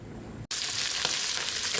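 Pork adobo fries loudly in a pan, a dense, steady sizzle that bursts in after a brief quieter moment and carries on without pause.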